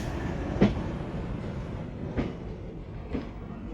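An Alco locomotive train near Jamnagar gives a steady, fairly faint rolling rumble, with three soft rail clacks spaced about a second apart.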